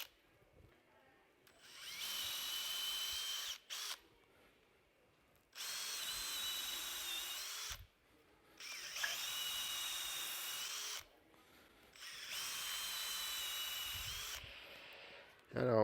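A cordless drill bores holes of several sizes into wood for an insect hotel, whining loudly in four separate bursts of a few seconds each with quiet gaps between them.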